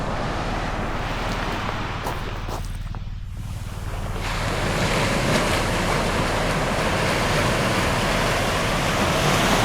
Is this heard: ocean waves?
yes